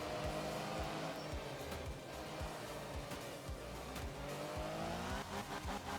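In the video game art of rally, a rally car engine drones and revs continuously while tires skid and squeal on loose surfaces, loud and close throughout with no talking.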